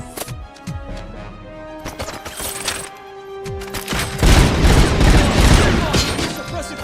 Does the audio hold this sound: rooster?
no